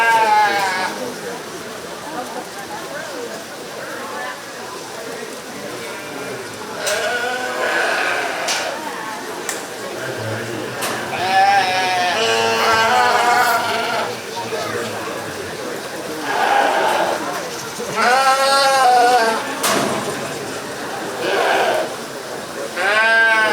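Sheep and market lambs bleat repeatedly at a 4-H county fair sheep show, loud and close, with several animals calling over steady crowd chatter and someone talking throughout.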